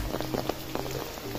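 Heavy rain falls in Nainital near Thandi Sadak by the boating lake, a steady broadband patter of drops on wet surfaces, fairly close and unbroken with no voices.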